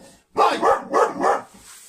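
A dog barks four times in quick succession, loud and close, each bark full and rounded, followed by brief quiet.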